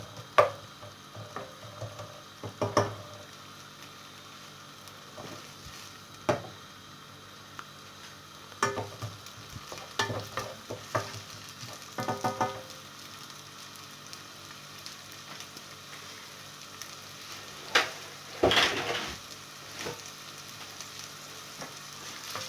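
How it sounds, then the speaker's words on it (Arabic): Onion fries in a pan with a soft steady sizzle, broken by scattered clatters and scrapes as it is stirred, heard close and quiet with no talking. "ندير غير البصل ديالنا يطيح"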